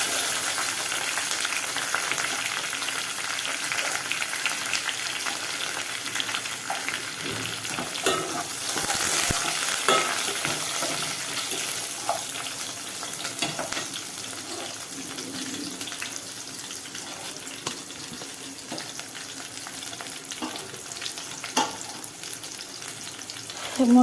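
Curry leaves and sliced onion fry in oil in a pan for a mutton curry, producing a long, even sizzle with occasional stirring scrapes and crackles, close up and moderately loud.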